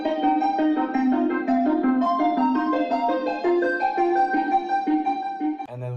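An experimental music sample processed with EQ, harmonizer and lo-fi reverb plays a melodic line of layered tonal notes in a steady rhythm, loud and alone, with a brief low thud near the end.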